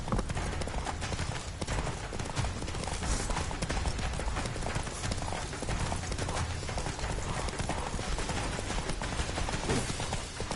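Rapid galloping hoofbeats of a horse in The Witcher 3 video game, a steady driving clip-clop rhythm continuing loud and close throughout, with dense game effects layered underneath.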